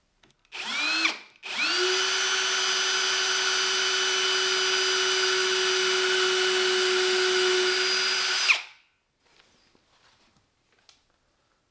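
A power drill bores through a marked point for a small repair job, whining steadily at high speed for about seven seconds after a brief start, then cutting off to near silence.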